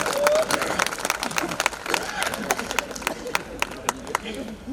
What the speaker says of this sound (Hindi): एक बार तालियां बजाइए दोस्तों